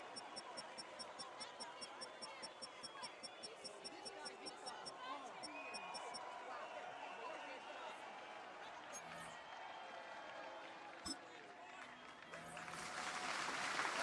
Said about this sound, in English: we've got some claps